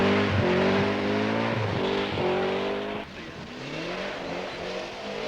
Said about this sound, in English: Herr Eklund, controlling his TR7 on the ice with tremendous verve, is in second place.